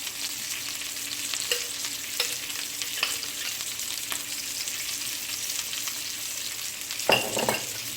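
Ground beef frying in a pan while being stirred, a steady close sizzle with intermittent scraping and clacking of the utensil, one louder stir near the end.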